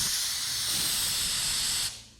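Compressed air leaks from a shop air line with a loud, steady hiss that runs alone and unbroken, then drops off sharply near the end.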